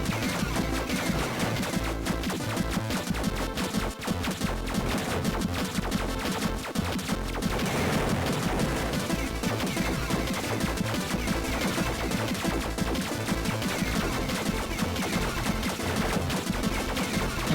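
Stock explosion sound effects from a Game Boy Advance game fire in a relentless, rapid barrage of crunchy blasts, overlapping densely and holding a steady loud level for the whole stretch.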